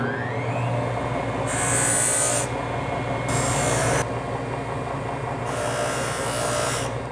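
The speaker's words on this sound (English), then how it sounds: "Let's move to the polishing motor." Polishing motor buffing a handmade metal jewelry piece after solder removal, a steady electric whine with a rubbing, rasping edge that swells louder in several bursts as the piece is pressed to the wheel, close and alone.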